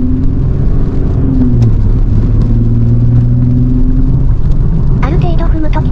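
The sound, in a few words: V6 engine of large-displacement rear-drive car on expressway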